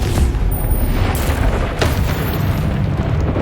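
A Confringo spell explodes in the Hogwarts Legacy video game: a loud, rumbling boom with a second sharp burst shortly after, heavy low end sustaining under the game's background sound.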